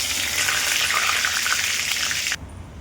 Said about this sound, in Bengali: দিয়ে দেবো এবারে জিরে ফোড়ন, সাদা জিরে, দুটো তেজপাতা